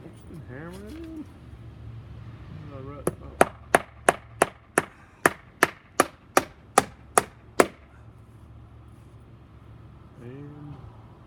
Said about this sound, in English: And then just been hammering it in.